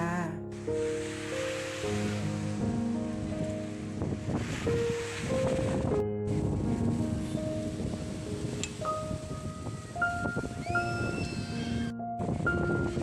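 Evening sea waves wash onto Jomtien beach in Pattaya, a steady rushing surf mixed with wind buffeting the microphone, while a sustained musical tone plays over the top.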